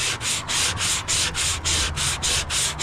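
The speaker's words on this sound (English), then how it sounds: "I'm going to sand this putty down" Hand sanding of body filler putty with 180-grit paper on the stripped metal hood of a 1968 Mustang coupe, a steady series of close, loud back-and-forth rasping strokes in an even rhythm with no talk.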